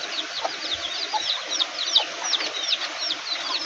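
Chicks peeping in a dense, continuous chorus around a hen, with soft clucks underneath, steady and fairly close with no talking.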